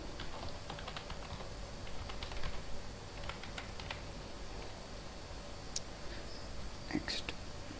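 Rapid, light clicking of keys on a computer keyboard as a username and password are entered, steady tapping at close range with soft whispered speech underneath.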